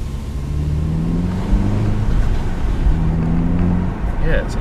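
A Volkswagen Golf R engine and exhaust droning steadily at low revs, a close, fairly loud rumble with gentle pitch swells, with a voice speaking over it.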